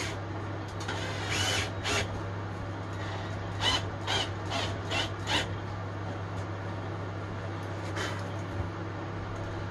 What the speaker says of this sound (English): we're just going to put a couple of posi drives in here